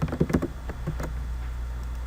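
Computer keyboard typing while entering a new family type name in Revit, a quick cluster of close key taps early on, then softer scattered taps over a steady background hum.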